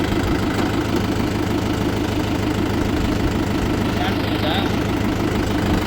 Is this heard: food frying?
no